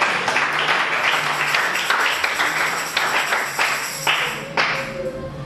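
A church congregation claps together during a worship service, a dense and steady patter of many hands that stays loud and fairly even throughout, with no talk over it.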